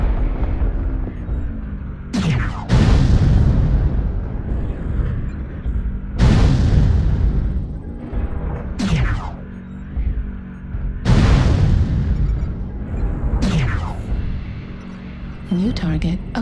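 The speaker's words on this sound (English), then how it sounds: "Artillery strike online." Artillery strike in a video game: heavy booming explosions land one after another, each with a sharp crack followed by a long rumbling decay, repeating roughly every four to five seconds.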